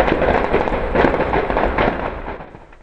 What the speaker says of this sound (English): Gunshots were heard.